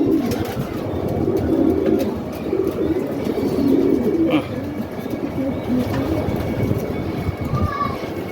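Racing pigeon returning to its loft after nearly a year away, soft cooing amid birds and outdoor background noise, with people talking nearby.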